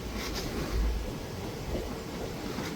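Nagercoil–Chennai Central weekly express hauled by a diesel locomotive rolling into Madurai on platform one, a steady low rumble of wheels and carriages throughout, heard from on board.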